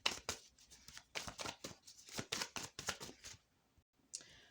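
Oracle cards being shuffled by hand at a tarot and oracle reading, a run of quick, crisp riffling bursts in close succession, near and fairly loud, tapering off into a brief pause before one last short shuffle.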